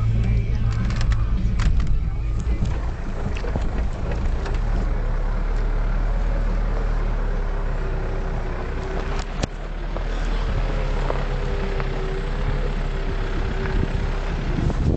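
Low-pitched engine drone of a Hyundai Galloper creeping downhill in low-range reduction gear, a steady rumble with faint mechanical whine, continuous and close throughout.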